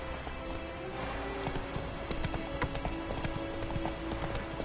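Roach the horse trots along in The Witcher 3, quick steady hoofbeats clip-clopping close by over an ambient game background, with faint low voices mixed in.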